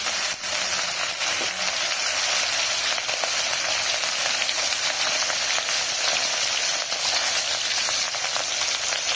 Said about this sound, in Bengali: তেলটা গরম হয়ে গেছে এবার এক এক করে আমি তেলের ওপরে মাছগুলো দিয়ে দেবো